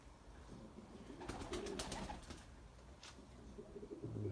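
White pigeons in flight give faint, soft cooing with a brief flutter of wings, heard at a distance against quiet outdoor background noise.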